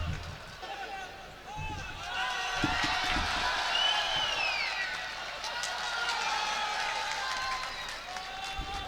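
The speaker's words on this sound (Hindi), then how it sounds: "पुरजोर तालियां बजाकर इस्तकबाल कीजिए जनाब ताहिर फराज" Audience applause at an outdoor mushaira in Bhulepur, Ambedkar Nagar, welcoming poet Tahir Faraz: steady broadband clapping from a large crowd lasting throughout, with voices and a drawn-out vocal tone rising over it.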